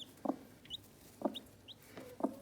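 Soft peeping from a chick still inside its egg: three faint, evenly spaced chirps, close and quiet, with no voices.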